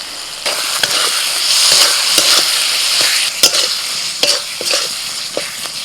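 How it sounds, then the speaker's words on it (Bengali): Chopped tomato hisses and sizzles loudly in hot oil with Kashmiri chilli, turmeric, cumin, coriander and salt, a spatula scraping and stirring in sharp clacks throughout, close and continuous. "এবার দিয়ে দিচ্ছি টমেটো কুচি।"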